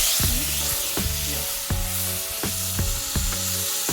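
Corn lollipops deep-frying in hot oil make a continuous loud sizzle, with regular knocking clicks roughly every half second throughout.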